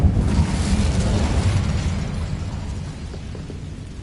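In Hogwarts Legacy, the Incendio fire spell lets out a loud, rumbling whoosh of flame at the start that slowly fades into a dull roar.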